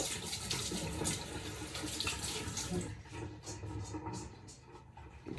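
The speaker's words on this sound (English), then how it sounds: "Just rinse off my hands." Kitchen tap water running steadily into a sink while hands are rinsed off, a close, continuous splashing rush that grows more broken and spattery toward the end.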